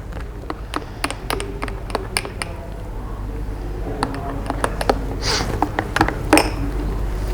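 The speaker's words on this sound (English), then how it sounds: "All right, it's time to stir." A spoon stirs honey into a drink in a glass, giving a run of sharp, irregular clinks and taps against the sides over a low steady background hum.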